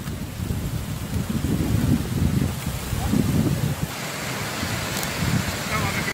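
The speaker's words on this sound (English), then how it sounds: "It's actually a terrifying swarm of locusts terrorizing the Russian countryside." A swarm of locusts over the Russian countryside gives a steady, dense rushing whir, like wind, that fills the whole clip at an even level with no voices.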